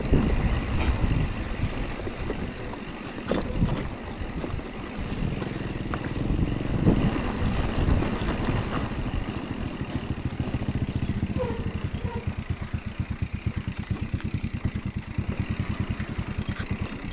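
Motorcycle engine idling nearby with a steady low chug that turns into a clear rapid pulsing in the later seconds, mixed with background traffic noise and no talk.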